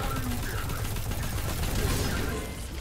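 Omolon auto rifle Uriel's Gift firing in Destiny 2, a soft, non-metallic sounding weapon, heard as a steady rapid stream of shots close by that runs unbroken, easing slightly at the very end.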